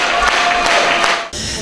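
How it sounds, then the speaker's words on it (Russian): A packed concert hall audience applauding a choir performance, a short dense burst of clapping heard at moderate distance with a brief dip before it resumes. "Переполненный зал то и дело взрывался аплодисментами благодарных зрителей."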